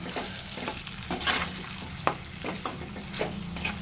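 Pork dry fry is stirred in a hot pan, with a steady sizzle under repeated scraping strokes and sharp clacks of a spatula against the metal, close and fairly loud.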